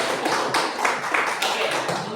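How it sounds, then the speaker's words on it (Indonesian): A classroom group claps for a presenting team in a short, loud burst, with several hands patting in a loosely rhythmic way and sounding close by. "Selanjutnya mari juga kita tepuk tangan untuk kelompok bagus"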